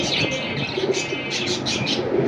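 A male pigeon coos indoors in a room among a collection of pigeons, with soft, repeated bursts of higher chirping over a steady low murmur; no talking.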